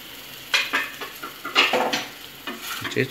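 A spatula scrapes and clinks through egg pepper fry in a hot pan in several irregular bursts of stirring, with a soft sizzle running underneath.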